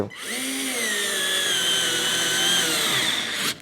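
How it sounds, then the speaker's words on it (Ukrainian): Cordless screwdriver driving a 25 mm self-tapping screw, a steady close motor whine held for about three seconds, its pitch sagging slightly under load before stopping abruptly. "Тестуємо нову акумуляторну викрутку з саморізами різної довжини"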